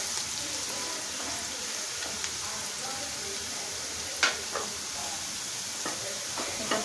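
Bitter gourd (kakarakaya) slices fry in hot oil with a steady, faint crackling sizzle, broken by a few sharp clinks of a stirring spoon against the pan.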